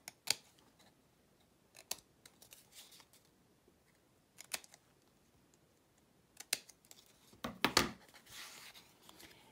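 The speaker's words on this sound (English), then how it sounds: "I cut off at an angle on each one of these little flaps" Scissors snip angled cuts into small paper flaps on a gift box, a few sharp isolated snips spaced apart in a quiet room, ending in a longer cluster of cutting and paper rustle.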